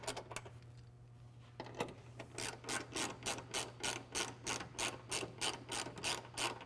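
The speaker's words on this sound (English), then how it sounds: "reinstall our 10mm bolts on the top" Ratchet wrench tightening 10mm bolts on the upper grille of a Toyota Tacoma, a steady run of regular, close clicking strokes after a brief quieter start, with a low hum underneath and no speech.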